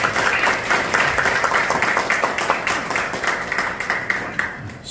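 An audience claps at a Korean church coalition press conference, a dense, steady patter of many hands that fades slightly near the end.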